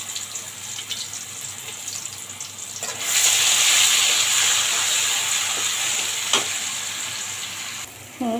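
Spice paste for a boal fish curry hits a hot pan and erupts into a loud, steady sizzle that holds for several seconds, with a quieter kitchen hush beforehand and a brief clatter near the end.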